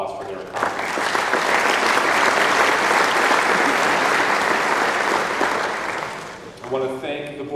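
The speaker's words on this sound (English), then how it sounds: "I just want to give that group a round of applause for their accomplishments." A crowd at a sports hall of fame induction ceremony applauds sectional champions, a broad sustained roar of clapping that swells quickly, holds steady for several seconds, then fades as a voice resumes at the end.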